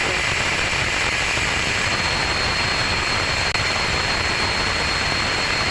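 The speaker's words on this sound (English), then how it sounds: "That is a healthy Rutherford engine startup on the second stage" A Rutherford engine on the second stage of an Electron rocket burns in flight, heard as a steady, loud, unbroken roar of broadband noise with a faint tonal whine on top.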